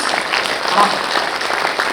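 An audience taps their fingers together to imitate rain, making a soft, pattering, drizzle-like applause that stays fairly steady and close.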